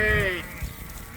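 A sheep heading out to pasture on a farm lets out one short, clear bleat at the start, followed by quiet outdoor background.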